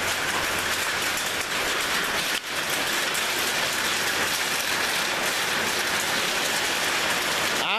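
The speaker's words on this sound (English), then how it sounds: "some of that's definitely not rain. I seen a piece of hail bounce off the back of the truck." Dense, steady downpour of rain mixed with hail drumming on surfaces close by, including a truck, a constant heavy hiss with no voices; individual hailstones can't be picked out from the roar.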